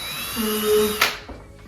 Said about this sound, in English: We're drilling this into our stud where that X is.